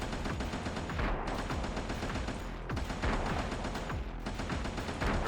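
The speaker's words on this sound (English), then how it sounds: "that seems extremely effective with the sniper rifle" Sniper rifle in Codename: Ocean Keeper, with gunfire rattling steadily under a dense, loud layer of game noise and three distinct heavy shots spaced roughly every one and a half seconds.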